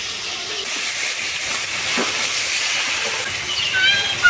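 Water added to a hot pan of chicken feet curry with ginger-garlic paste and salt sets off a loud, steady sizzling hiss that starts abruptly and carries on without letup, with no talking.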